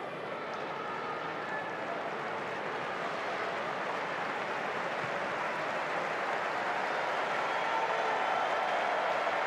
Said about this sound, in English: there's a round of applause as Alex Ferguson's face is put on the big screen